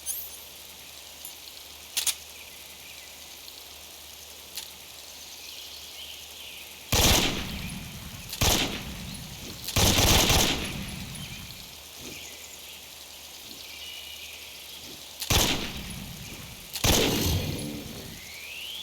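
AK rifle fire in Metal Gear Solid 3: Snake Eater, heard as sharp, spaced bursts and single shots over a steady rain-like ambient hiss, several loud clusters arriving irregularly through the scene.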